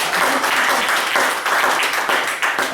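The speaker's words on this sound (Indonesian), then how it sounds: "Tepuk tangan dong." Audience applause at a live talk event, dense and steady clapping from a crowd that carries on without a break, fairly close and loud with no voices over it.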